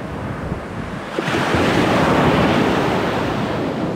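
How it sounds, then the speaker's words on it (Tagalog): Strong ocean waves crash and roar close by at a beach campsite in La Paz, San Narciso, Zambales, a continuous loud surf wash that swells louder midway, with wind buffeting the microphone and no talking. "Ang lakas ng alon oh."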